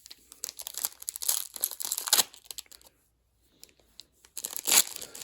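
Crinkly foil wrapper of a Bowman basketball trading card pack being torn and crumpled by hand up close, in two bursts of rustling separated by a short quiet pause.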